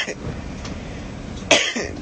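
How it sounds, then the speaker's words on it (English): A man coughs a few times, raspy bursts standing out over a steady background murmur of voices. "This cough. This is exotic cough."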